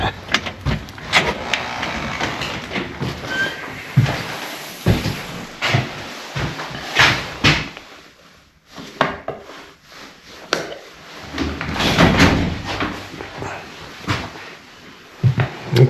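Wooden cabin door at a state park camper cabin being handled, with repeated creaks, knocks and latch clunks, a thud as it shuts and irregular rattling handling noise close up, with no talking.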